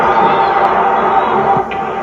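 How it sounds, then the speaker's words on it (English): A hockey crowd roars as a fight breaks out at an NHL game. The dense, loud cheering stays sustained and continuous, then dips slightly near the end. "When they go to an NHL game, they see the crowd roaring with approval"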